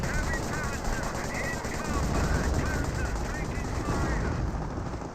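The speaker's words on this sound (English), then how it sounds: "Our brave Panzer destroyed an enemy tank." A Panzer tank fires during a Company of Heroes battle, heard as dense, continuous rattling gunfire and combat noise with no break from start to finish.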